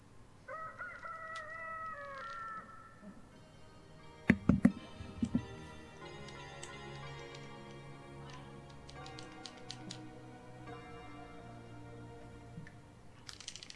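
A rooster in Billy Hatcher and the Giant Egg gives one clear, stretched cock-a-doodle-doo near the start, followed by game sound effects, thumps and faint clicks.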